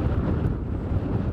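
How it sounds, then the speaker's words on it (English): Strong, gusty wind at Livingston, Montana buffets the microphone with a continuous low, rumbling roar that swells and eases slightly, with no voices. "wind speeds right now are between 25 to 30 miles per hour, sustained winds"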